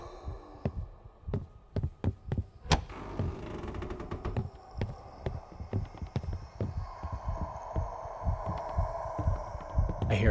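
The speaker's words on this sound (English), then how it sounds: "I hear a heartbeat" A heartbeat in the horror video game Paranormal Cleanup: Bridle St. thumps in a steady, low rhythm of repeated beats, mixed with footstep-like knocks and a faint hum, with no talk.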